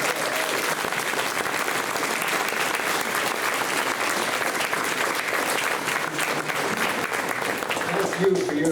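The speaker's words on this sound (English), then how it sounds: "Let's give them a nice round of applause." Sustained audience applause fills a hall at a veterans hall of fame induction ceremony, steady dense clapping from a crowd honoring women who served in the military, continuous and fairly loud throughout.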